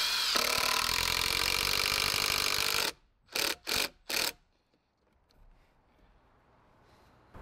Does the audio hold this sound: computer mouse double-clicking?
no